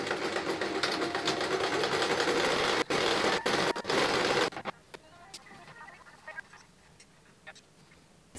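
A sewing machine stitches the side seams of a gown in a loud continuous run for about four and a half seconds, broken by brief stops, then cuts off to quiet room tone with scattered small clicks and taps.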